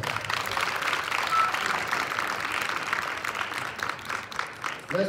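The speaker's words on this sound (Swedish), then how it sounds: "Stor applåd." An audience applauds at a wushu taolu championship after first-place results are announced, a steady wash of clapping from a moderately distant crowd that holds through and thins slightly toward the end.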